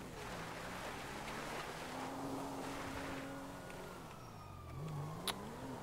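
In Grand Theft Auto V, a police car siren wails faintly in the distance, its pitch sweeping slowly up and down over a low rumble of engine and ambient noise.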